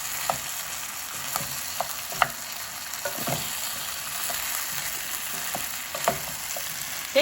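Six crushed garlic cloves fry in a pot for a homemade butternut squash soup, a continuous close sizzle with scattered clicks and scrapes as a utensil stirs against the pot.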